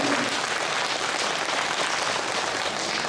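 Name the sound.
congregation applauding in welcome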